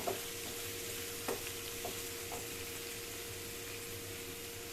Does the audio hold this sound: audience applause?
no